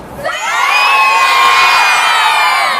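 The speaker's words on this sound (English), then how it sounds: "How loud can we yell thank you to this representative?" Students at a school rally shout together in one loud, high, sustained group yell that rises quickly and holds for more than two seconds.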